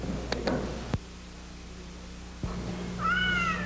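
A little kitty meows once, a short rising-falling cry near the end, heard over steady background hiss with a couple of faint ticks earlier.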